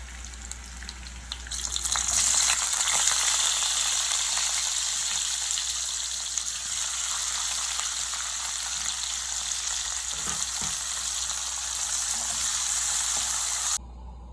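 Mustard seeds and cumin crackle in hot oil while chopped onion fries for paneer tikka masala, a steady, loud broadband sizzle starting after a quiet second and running unbroken until it cuts off near the end.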